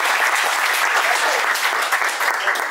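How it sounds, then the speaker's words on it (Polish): A group claps steadily, a dense burst of applause at close range with no pauses. "Brawa dla was."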